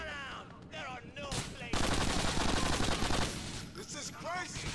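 Gunfire in the video game GTA 4 The Ballad of Gay Tony: loud, rapid bursts of automatic shots crackle in dense succession, with game sounds and brief voices mixed in around them.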